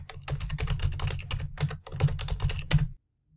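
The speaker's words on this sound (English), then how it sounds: "As I type in each word, I'm pressing tab to get to the next column heading." Rapid keystrokes on a computer keyboard as words are entered into a to-do list table in Evernote, with steady close clicking for about three seconds before stopping, no voices.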